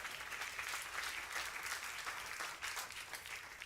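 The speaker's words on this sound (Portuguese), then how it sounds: "Você pode aplaudir a Jesus?" Church congregation at a Sunday service applauding together, a continuous, even roar of many hands clapping throughout, moderately distant and without talk over it.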